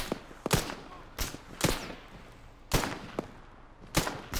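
Gunshots crack through an Arma 3 firefight, sharp single reports spaced irregularly about a second apart, some louder and nearer than others, over a quiet background.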